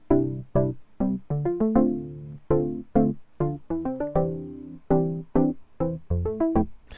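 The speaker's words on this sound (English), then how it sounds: "I've just sequenced in that little chord progression. It sounds like this." A sequenced synthesizer chord progression plays alone, with short, sharply plucked chords in a bouncy, uneven rhythm, loud and close with no talking.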